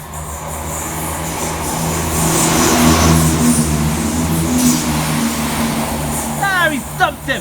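A Class 158 diesel train rushes fast through North Queensferry station in Fife, a broad rising roar that swells and holds, with squealing wheel tones near the end.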